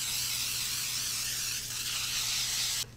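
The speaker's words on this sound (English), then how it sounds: "I've got a 9x13 baking dish here and I'm just going to spray." A steady, close hiss of cooking spray from an aerosol can into a 9x13 baking dish, running continuously for nearly three seconds before cutting off abruptly.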